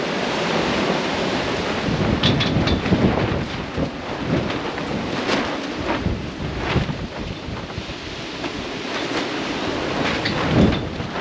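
Strong wind gusts buffet the microphone beside an old RV, with a rough, continuous roar that rises and falls, with no talking.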